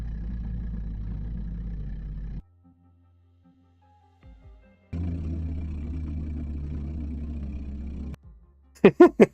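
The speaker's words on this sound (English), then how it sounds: "Now it's an even bigger truck." Pitched-down truck engine sound effect, a deep, heavy rumble that runs steadily for a few seconds, drops out, then returns for another long stretch before ending in a few short sharp bursts.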